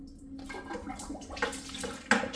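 Aquarium water drains through a siphon hose into a bucket, a soft irregular trickle and splash with small gurgles and a sharper slosh near the end.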